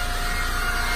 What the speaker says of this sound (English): What you hear there is a cooling fan.